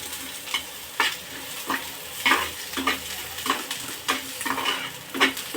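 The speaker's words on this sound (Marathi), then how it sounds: "मी इथे स्लाइस करूनच भाजत आहे या पॅनमध्ये म्हणजे छानपैकी भाजला जातो" Sliced onion roasting in a pan with a little oil and a spoonful of chana dal, heard as a soft steady sizzle broken by repeated scraping stirs at close range.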